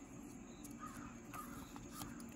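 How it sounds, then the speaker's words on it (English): Several crows caw outdoors at a distance, in short repeated bursts over a low steady background hum, with no voices. "I hear a lot of crows"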